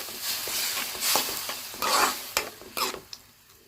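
Spinach juice and vermicelli sauté in a pan with a soft sizzle under repeated scraping and tapping strokes of a spoon stirring the mixture, close and brisk, with no talking.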